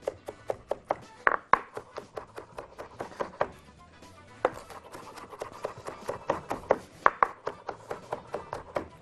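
A knife finely chopping onion on a board for kofta, rapid sharp close taps in steady bursts with a brief pause midway, no voices.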